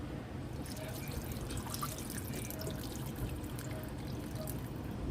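Water pours from a measuring cup into a big cooking pot for hamburger stew, a steady close splashing trickle that runs evenly for several seconds.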